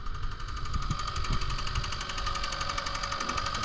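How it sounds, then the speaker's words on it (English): A running Kia Soul engine knocks with a rapid, steady metallic tapping and rattle, close and continuous with no talking. "The engine is making like a little knocking noise."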